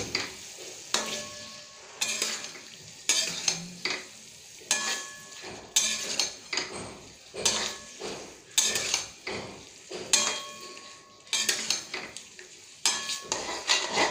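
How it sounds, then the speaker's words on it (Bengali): Prawns stirred in a pan for a spicy yogurt prawn dish, repeated scraping and clinking of a spatula against the metal pan over a soft sizzle, in irregular bursts. "চিংড়ি মাছটা দিয়ে দিলাম, দিয়ে এর সাথে একটু নাড়িয়ে নিচ্ছি।"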